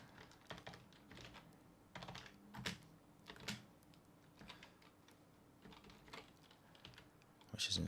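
PHP code being typed on a computer keyboard, soft irregular clicks in quick bursts with short pauses, quiet and close, with no voice.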